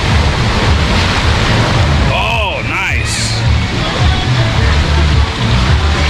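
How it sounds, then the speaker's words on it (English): Massive ocean waves surging through a rock blowhole on San Andres island in Colombia, a loud continuous roar of surf and wind buffeting the microphone, with a brief voice partway through. "check out those massive waves that are coming through the geyser"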